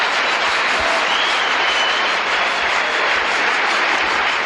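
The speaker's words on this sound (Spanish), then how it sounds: "Dale un aplauso fuerte." Loud, dense applause from a church congregation during a Spanish-language sermon, a steady wash of clapping that fills the whole stretch without pause.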